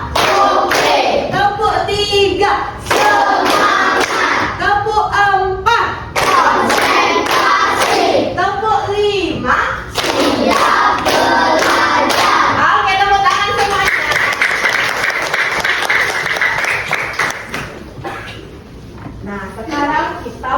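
Schoolchildren in a classroom chant loudly in unison while clapping their hands in rhythm, sharp claps punctuating the sing-song voices that fill almost the whole stretch.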